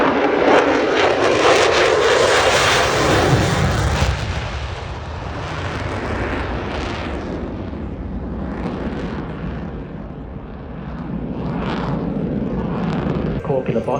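Military jets roar past at the Avalon Australian International Airshow, a loud, rumbling pass that swells and fades, with people talking over the engine noise.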